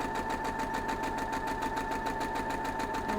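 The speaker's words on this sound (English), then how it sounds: "I'm just going to sew that straight off" Close and steady, a sewing machine stitches fabric while making half square triangles, its fast needle chatter running evenly with a constant motor whine throughout.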